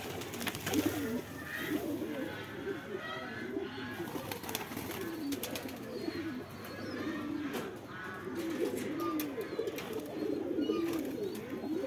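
Domestic pigeons cooing on a Bangladeshi rooftop loft, a steady overlapping chorus of low throaty coos running throughout, close and fairly loud, with faint background bird chirps.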